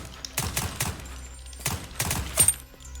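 Rapid bursts of gunfire aimed at zombies in the game Deathly Stillness, coming in two loud clusters of quick shots with a brief lull between them.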